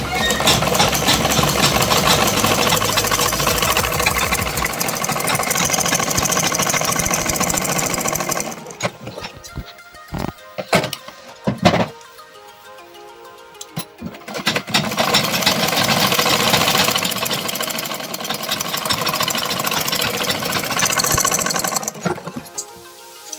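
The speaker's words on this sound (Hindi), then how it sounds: "अब इसको डबल करे दे रहे हैं सिलाई।" Electric sewing machine double-stitching the shoulder seam of a kurta, a fast buzzing run of stitches, then a pause with a few clicks and handling noises, then another long steady run close by.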